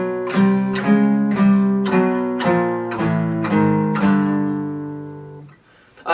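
Electric guitar power chords, a single shape slid up the neck to new positions: about six distinct chords struck one after another, each ringing briefly before the next, close and clear, ending in a fade.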